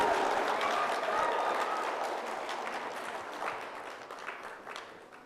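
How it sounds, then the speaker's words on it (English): Audience applause at the 2022 Miss Navajo Nation pageant, a dense wash of clapping from a large crowd that stays strong and steady before gradually thinning toward the end. "All right, round of applause again."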